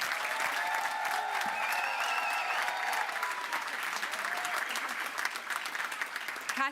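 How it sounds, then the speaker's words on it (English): A graduation audience at a University of West London ceremony applauds graduates with steady, dense clapping that fills the hall throughout, no voices standing out. "Should we do a very big round of applause for these graduates,"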